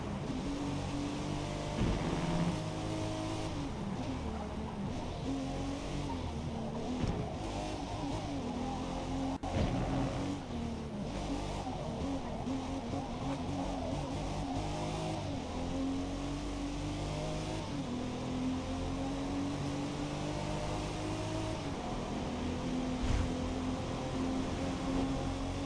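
A BMW racing in Forza Motorsport, its engine droning steadily and rising and falling in pitch with shifts and revs, loud and continuous throughout with no talk.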